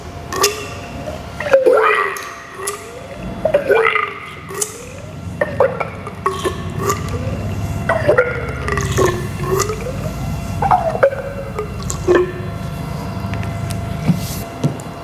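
The front fork of a 2020 Yamaha NMAX with a YSS front fork kit is pumped by hand to bleed air from the oil, giving repeated wet, squelching gurgles and slurps at a steady, close rhythm.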